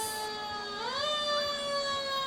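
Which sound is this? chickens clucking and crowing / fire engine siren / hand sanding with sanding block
fire engine siren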